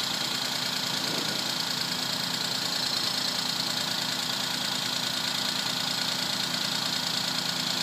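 A Suzuki Alto engine idles after a throttle body cleaning, giving a steady, continuous mid-pitched hum that stays close and even throughout with no change in speed.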